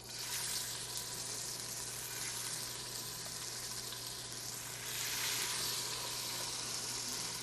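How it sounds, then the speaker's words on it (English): Meat pieces with bones searing in a hot pot for Haitian cooking, a soft, steady sizzling hiss that runs unbroken and fairly quiet throughout. "We're gonna sear our meats."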